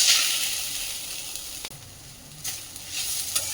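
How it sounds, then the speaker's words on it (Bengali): Grated coconut fries in a wok for a semolina sweet, a continuous bright sizzle with occasional scraping stir strokes, close and steady, with no talking. "নারকেলটাকেও হালকা ছেঁকে নেব"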